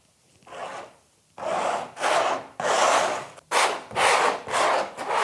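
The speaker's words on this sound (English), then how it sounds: "Put it on with a spatula." A spatula spreads thick, batter-like canvas primer across a canvas in a series of close scraping, rubbing strokes, each lasting about half a second to a second, with brief pauses between them.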